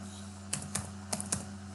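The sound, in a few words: typing code on a computer keyboard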